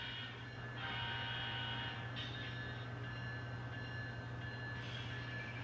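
An N scale model train runs forward along its track pulling a sand train, giving a steady close mechanical whir and hum with faint higher rattles from wheels and motor, continuous and without talk.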